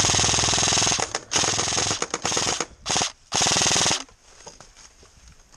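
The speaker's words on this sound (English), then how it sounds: "I know it's an AA-12 and all, but... aim with it." Bursts of rapid fully automatic shotgun fire from an AA-12 in a multiplayer shooter video game, several loud sustained volleys broken by short pauses, then quieter ambient game noise.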